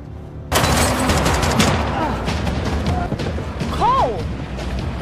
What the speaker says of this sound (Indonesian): gangster pimpinan G melakukan penembakan di wilayah Clinton yang menyebabkan si Barry tewas tertembak.